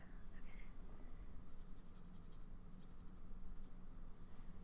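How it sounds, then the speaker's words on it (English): A fountain pen swatches ink across paper, giving a soft, steady scratching of nib on sheet that continues close and quiet throughout. "I'm going to swatch them under the inks that I did the other day."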